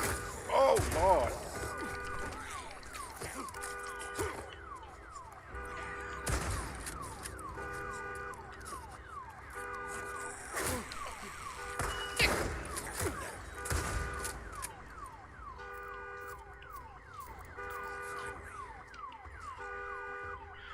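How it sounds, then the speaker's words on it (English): A car alarm blaring in a video game, its repeating electronic pattern cycling steadily throughout at moderate level, mixed with bursts of gunfire and impacts. "A car with an alarm on it."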